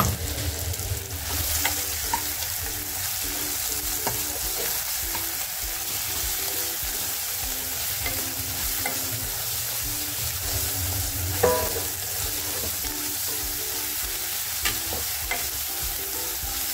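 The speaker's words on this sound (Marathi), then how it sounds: "चांगलं परतून घ्यायचं." Ground masala paste sautéing in a pan for rustic village-style mutton curry, a steady close sizzle with intermittent stirring scrapes and clinks throughout, no voices.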